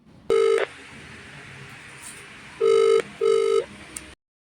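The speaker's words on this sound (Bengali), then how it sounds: "তাহলে দাঁড়া একটা ফোন করি" Three bursts of a telephone ring sound close up, one short trill followed by two longer ones after a pause, over a quiet background hum.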